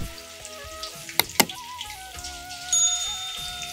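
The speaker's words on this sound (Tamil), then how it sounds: "எண்ணெய் காஞ்சணும்னு ஃப்ரை பண்ணுங்கள்." Marinated chicken 65 pieces fry in hot oil with a soft, steady sizzle and scattered pops, close and fairly quiet, with a couple of sharp clinks.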